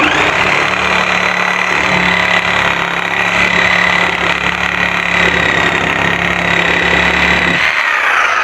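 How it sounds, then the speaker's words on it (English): A reciprocating saw (Sawzall) cuts through the gap between two wooden gates of a double gate, a steady close buzzing drone that runs unbroken for about seven and a half seconds before stopping abruptly. "So I have my sawzall, and we're going to cut in the gap between these 2 gates"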